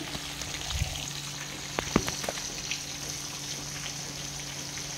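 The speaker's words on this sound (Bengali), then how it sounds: "মাংসটা অনেক প্রচুর সময় লাগবে মাংসটা ভাজা হওয়ার জন্য, তাই ভাজা হচ্ছে এখানে।" Meat frying in a pan at home, a steady crackling sizzle with a few sharper pops near the middle, continuous and close throughout without talk.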